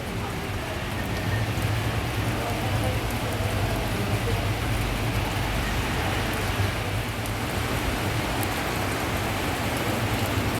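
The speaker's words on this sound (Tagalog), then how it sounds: "Ayan, tingnan nyo, umuulan." Rain falls steadily in Tagaytay, a dense, even hiss of drops on surfaces that runs unbroken for the whole stretch, with no one speaking over it.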